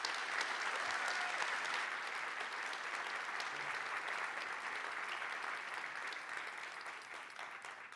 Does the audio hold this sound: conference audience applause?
yes